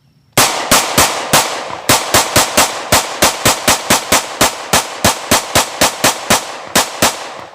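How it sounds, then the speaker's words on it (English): A Sig MPX Copperhead subcompact PDW fires a long string of roughly two dozen loud, evenly spaced single shots at close range, brass and steel ammunition, each crack sharp with a short decay and no talk. "there you saw us shooting with a variety of ammunition, brass and steel"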